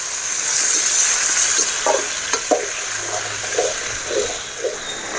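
Tomatoes sautéing in hot oil in a pan for pickle, a steady close hiss and sizzle with a few soft stirring scrapes partway through.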